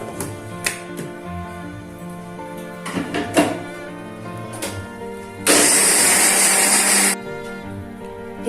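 A mixer grinder grinds roasted almonds for homemade almond Nutella, a loud, dense whirring burst of under two seconds that follows quieter knocks and handling clatter.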